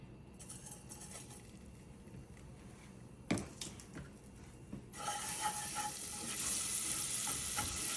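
Butter and garlic noodle sauce sizzles in a skillet, with a steady frying hiss and a sharp stirring scrape partway through, after which the sizzle swells louder and brighter.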